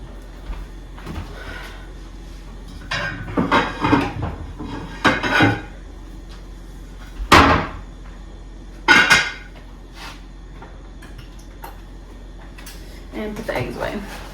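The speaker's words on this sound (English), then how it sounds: "I'm making egg salad for my lunches" Dishes and utensils clatter in a home kitchen while egg salad is made: scattered clinks, knocks and scraping handling sounds come in irregular bursts, with a couple of sharper louder knocks, against a quiet room background.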